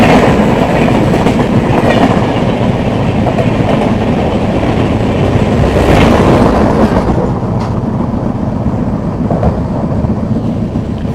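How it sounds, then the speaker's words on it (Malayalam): The Alappuzha–Dhanbad Express rolls along the rails near Thrissur, a loud, steady rumble of wheels and carriages with faint clickety-clack that continues unbroken throughout. "ധൻബാദ് എക്സ്പ്രസ് ആണ്, ആലപ്പുഴ ധൻബാദ്."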